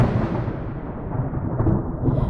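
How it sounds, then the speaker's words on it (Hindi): Heavy rain with a low rumble of thunder forms a dense, steady wash of noise, loud and continuous throughout, with no voices. "बाहर मूसलाधार बारिश हो रही थी"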